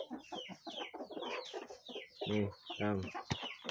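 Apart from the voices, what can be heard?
chickens clucking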